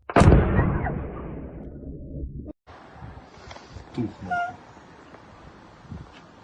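A heavy, booming blast from drone strikes in Russia opens loud and rumbling, cuts off abruptly, then gives way to scattered distant thuds and pops over a noisy background.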